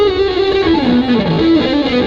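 A distorted electric guitar through a Wilkinson WHHBa front pickup plays a sustained, saturated melodic line, loud and close, notes clear and sliding between pitches.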